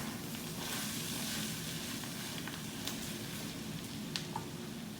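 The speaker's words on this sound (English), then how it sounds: "All right, we're going to get that all stirred in there." Beef chorizo with heavy cream sizzles steadily in a pan while being stirred, a continuous close frying hiss with occasional soft scrapes and pops, no voices.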